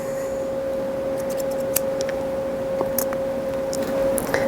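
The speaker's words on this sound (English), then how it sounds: "Trim off all of the long ends." Scissors snip the long thread ends while a fly is tied for fly fishing: a few quick, light snips over a steady background hum, close and fairly faint.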